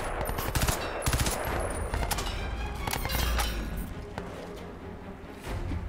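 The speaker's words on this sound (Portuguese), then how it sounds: "O tanque vai me acertar, quer ver?" A tank opens fire during combat in the shooter Crysis 2, with rapid clattering shots in quick bursts and a deeper thump midway over a busy, loud battle din.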